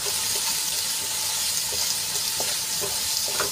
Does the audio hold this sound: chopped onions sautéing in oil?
yes